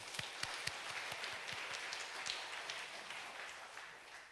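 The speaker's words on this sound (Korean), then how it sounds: "하나님께 영광의 박수 올려드립시다" A church congregation claps together at a Sunday worship service in steady, dense applause that stays even throughout, fairly soft and slightly distant, with no voices on top.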